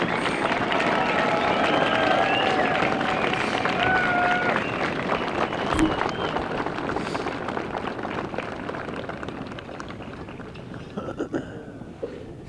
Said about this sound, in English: Please join me in one more round of applause to all our Flight 31 veterans